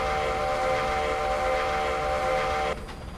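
A locomotive whistle in the Roblox game 1946 Railroading sounds as a loud, steady multi-tone blast over rumbling train noise, holding for nearly three seconds before cutting off while the rumble continues.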